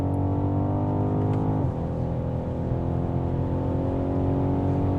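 A Stage 1.5 tuned BMW X6 M50i with a 686 hp V8 accelerating hard, its deep, steady engine drone rising in pitch, dipping briefly at a gear change, then climbing again without any talk.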